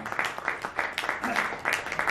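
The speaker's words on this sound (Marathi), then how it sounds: "जोरदार टाळ्या झाल्या पाहिजेत या आपल्या लाडक्या जोडीसाठी" A crowd at a Marathi film press conference for the actor pair Subodh Bhave and Tejashri Pradhan applauds in a dense, even burst of clapping, with voices mixed in underneath.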